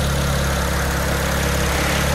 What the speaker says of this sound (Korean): 생각보다 35IS N54 엔진의 아이들링이 굉장히 낮습니다. 저 엔진 소리도 이렇게 들어보고